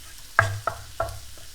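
Onion, jalapeno, lime and avocado hit a hot cast-iron pan, giving three distinct sizzling thumps about a third of a second apart over a low, steady background hiss.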